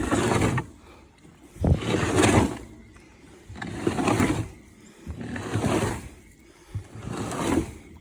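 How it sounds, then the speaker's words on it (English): An Osborne Big Wheel 45-bushel outdoor pig feeder is spun by hand, giving repeated rumbling, grinding whooshes in an even rhythm, about five turns separated by short pauses. "So now then we spin this thing"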